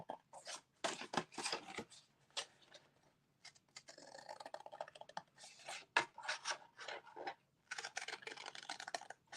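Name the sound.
scissors cutting cardstock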